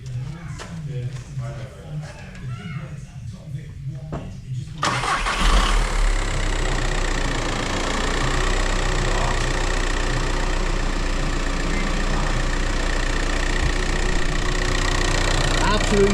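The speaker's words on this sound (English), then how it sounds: "All we're going to do is get on the key and give it a big starter-rooney." Volkswagen Passat with a 1.9 PD diesel engine cranks and fires up after a quiet stretch, then settles into a steady, loud idle; a voice speaks briefly before the start.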